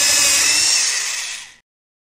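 A drill boring a hole into a tree in the Molly of Denali video game, a loud high-pitched whine that holds steady, then fades and cuts off abruptly, leaving silence.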